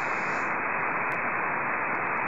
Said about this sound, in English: Are you listening to the white noise too, the receiver noise as well?